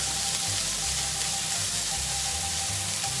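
Nine or ten prawns frying in a pan make a steady, close, bright sizzle with a faint rhythmic low thumping underneath, and no one talks over it.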